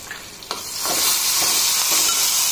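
Green chili and cumin sizzle in hot oil in a pan, a steady bright frying hiss that swells after a few soft stirring scrapes and stays loud and close to the end.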